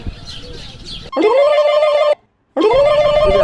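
A telephone rings in two loud electronic bursts separated by a brief pause, following a moment of background voices.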